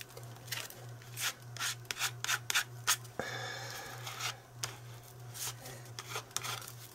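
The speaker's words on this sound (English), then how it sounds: "I'm going to burnish it" Paper being burnished by hand while making a mini junk journal: close, quiet, repeated rubbing strokes in an irregular rhythm over a low steady hum.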